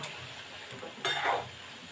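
Corn kernels frying in hot oil in a home kitchen give a soft, continuous sizzle, with a brief louder burst of stirring and scraping in the pan near the middle.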